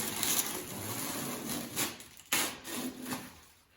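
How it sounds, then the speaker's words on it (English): Masking tape peeled back off a freshly spray-painted surface on a Can-Am Spyder, heard as close, drawn-out rasping tears in a few separate pulls, one ending in a sharp rip. "It's so satisfying peeling tape back."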